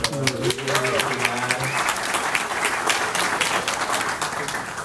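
Sustained applause from a meetup audience at a LinuxTips local event held at Google, dense clapping that fills the whole stretch at steady volume, with a brief voice near the start.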